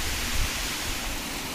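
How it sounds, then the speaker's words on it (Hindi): Water of Budhan waterfall near Sasaram in Rohtas, Bihar, pours down in a dense, steady roaring rush that stays constant and loud throughout. "ये पानी यहाँ से नीचे की ओर गिर रहा है"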